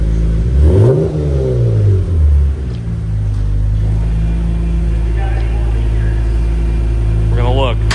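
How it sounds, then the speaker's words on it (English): Lexus IS300 engine revved during an exhaust leak check, a loud swelling rev near the start that falls back to a steady rumbling idle, heard up close with brief voices and a short whine toward the end. "Rev it up a little bit."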